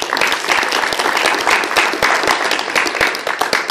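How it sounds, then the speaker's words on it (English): A large audience at a Model United Nations conference breaks into loud, dense applause, a continuous close wash of clapping hands lasting a few seconds. "Give yourself a round of applause."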